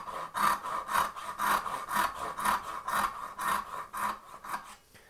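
Hand saw cutting houndstooth dovetails in wood, a steady rhythm of about ten push-and-pull strokes, close and moderately loud with no talking.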